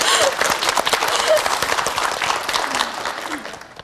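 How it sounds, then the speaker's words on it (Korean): An audience in a lecture hall claps in lively, continuous applause that gradually thins toward the end, with faint voices mixed in. "박수 부탁드리겠습니다"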